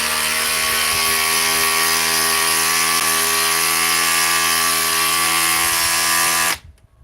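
A Metabo power tool runs continuously at high, steady speed while busting fasteners, a loud whining buzz that cuts off abruptly near the end.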